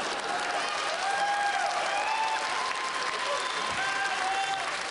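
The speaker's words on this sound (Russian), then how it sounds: "бурную овацию в зале" A studio audience on a Russian comedy show gives a loud, sustained ovation, a thick, even roar of clapping with scattered cheers and whistles throughout.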